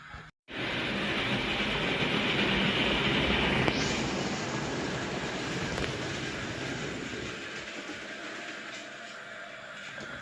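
A train runs steadily along a track inside a tunnel, a loud continuous rumble with broad rushing noise and a slight shift partway through, fading a little toward the end; no one speaks.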